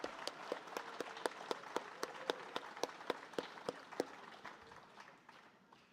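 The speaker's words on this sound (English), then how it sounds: "let's give them, once again, one more time, a big round of applause for the Rosenbach staff" Festival audience at the Rosenbach Bloomsday event applauds the staff, a light, thin round of distinct individual claps in a steady rhythm, fading toward the end, heard alone without talk.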